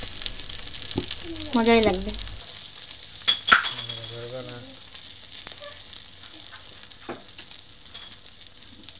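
Roti frying in a pan with egg, tomato and onion gives a soft, faint sizzle beneath clinks of utensils and a few short spoken words.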